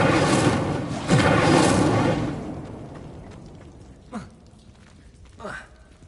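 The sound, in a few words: Incendio fire spell being cast in the Hogwarts Legacy video game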